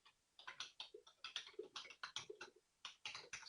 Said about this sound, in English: I believe I can type it in here.